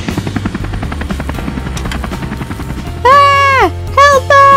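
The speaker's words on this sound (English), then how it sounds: "And let's send Skye up in her helicopter." Toy helicopter from a Paw Patrol fire station playset, a fast rotor-like chopping buzz followed by loud electronic siren-like warbling tones in short bursts.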